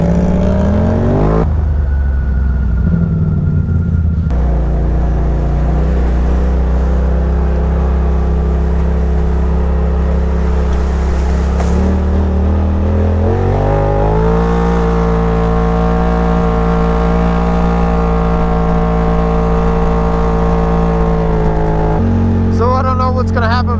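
Side-by-side UTVs, a Polaris RZR 1000 and a Kawasaki KRX 1000, drive through the South Fork Boise River canyon, their engines droning loudly and steadily with shifting pitch and revs throughout, with faint voices mixed in.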